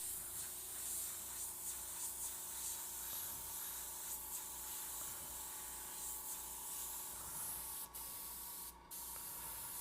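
Paint hisses from a spray can through torn cheesecloth onto a mummy prop, a steady close spray sound lasting several seconds with a couple of brief breaks near the end.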